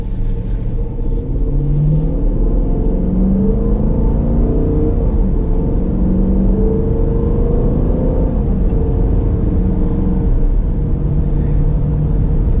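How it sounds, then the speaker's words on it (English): A deep V8 exhaust on a 2019 Dodge Durango R/T AWD rumbles continuously as the SUV slowly pulls away, the engine note rising gently under acceleration. "you get a little bit of noise there from the exhaust"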